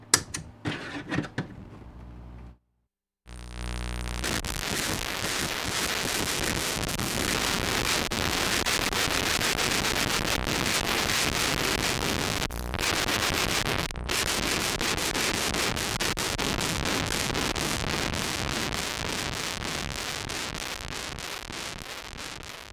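A DoD Carcosa fuzz pedal starved of power by a Power Starve device, producing a loud, dense wall of harsh static noise that cuts out briefly near the start, then roars on steadily with a few short dropouts.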